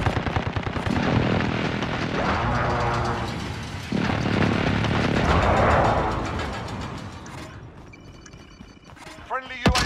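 Heavy automatic gunfire and rumbling explosions from a precision airstrike in the Warzone Rebirth video game, loud and continuous, thinning out before a final sharp burst, with a radio-style voice under the barrage.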